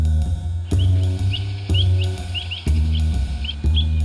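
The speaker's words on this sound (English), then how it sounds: "These birds, the sharp-tailed sandpipers, or sharpies as we affectionately know them" Sharp-tailed sandpipers call in a wetland, giving short high chirps in small bursts over a loud low rumbling background that starts and stops in sections.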